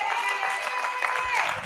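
A church congregation at a youth-month Sunday service claps in praise for the children, steady dense applause with crowd murmur and a sustained tonal layer, likely music, running underneath throughout.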